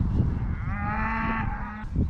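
Cows and calves moo in an open field, one long drawn-out low moo with strong harmonics carrying over steady outdoor background noise, with no one speaking.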